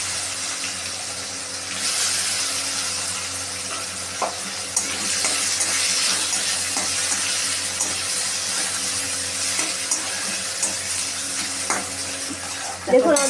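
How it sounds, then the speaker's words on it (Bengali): Chopped onion frying in oil in a pan, a steady, fairly loud hiss and sizzle throughout, with occasional scrapes and taps of a spatula stirring. "এবার আমরা দিয়ে দিচ্ছি পেঁয়াজ কুচি"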